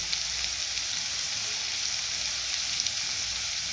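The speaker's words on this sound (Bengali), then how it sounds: "মৌরিটা অবশ্যই দিতে হবে দিয়ে ভালো করে ভেজে নেব" Fennel seeds fry in hot oil for singara filling, a close, steady sizzle with faint crackles throughout, no voices.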